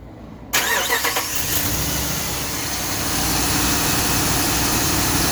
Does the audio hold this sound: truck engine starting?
yes